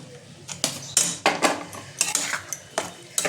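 Onion and capsicum being stirred in a pan for aloo dum, a metal spoon scraping and clinking against the pan in quick irregular strokes, close and fairly quiet.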